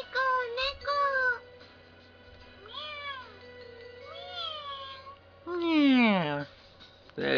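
Voice-acted cat meows in the visual novel game Kanon, a series of drawn-out, pitch-bending mews, some loud and whiny, spaced with brief pauses over a faint low background hum.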